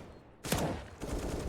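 Gunfire in a Counter-Strike match on Mirage: a sudden loud burst of shots after a quiet moment, then a second volley of rapid fire close by.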